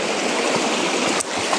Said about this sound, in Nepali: ऊ पानी हिँडेको छ रोडमा त मारी मारी पानी पुरै